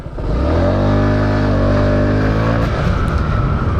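A Zontes 150x motorcycle accelerates hard on a slippery surface with traction control engaged, its engine note climbing in a steady loud rising rev that holds high and then levels off, with no voices.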